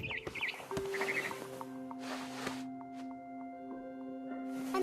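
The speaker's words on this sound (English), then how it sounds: "It was a barn swallow going back to her nest." Small barn swallow chirps in the video game What Remains of Edith Finch: a few brief faint tweets over quiet tonal music, with some soft rustling bursts.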